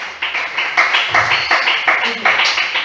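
A church congregation claps in a quick, steady rhythm, bright hand claps repeating close together, with voices mixed in underneath.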